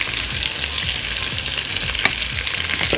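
Meat sizzles steadily in butter seasoned with salt and pepper in a pan, a dense continuous frying hiss with occasional stirring scrapes, close and fairly loud with no talking.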